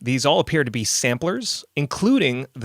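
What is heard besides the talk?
No everyday noises stand out.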